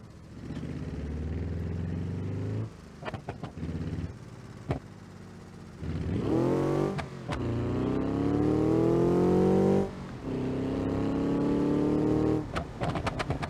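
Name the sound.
car engine revving in BeamNG.drive video game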